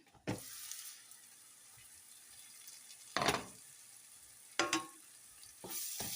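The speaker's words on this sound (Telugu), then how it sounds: "ఉల్లిపాయలు అయితే ఆల్మోస్ట్ వేగిపోయాయండి" Sliced onions fry in a pan for an egg vadiyala pulusu, a soft steady sizzle running throughout, broken by several sharp louder bursts of stirring or scraping against the pan.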